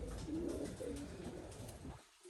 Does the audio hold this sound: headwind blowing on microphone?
no